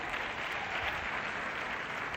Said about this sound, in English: Yvette, Tesh, and Albert, a round of applause for them